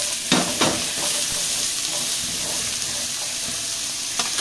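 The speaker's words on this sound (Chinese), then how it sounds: "炒一炒啲萝卜先，因为佢比较硬身啊" Radish pieces are stir-fried in a hot pan before the beef brisket goes in, making a steady sizzle with scraping stirs and a few sharper clatters of the utensil against the pan.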